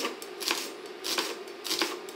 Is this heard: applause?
no